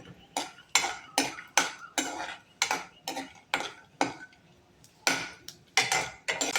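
Peanuts roasting in a pan, stirred with a utensil that produces a steady series of sharp metallic scrapes and clinks, close and distinct, roughly two per second.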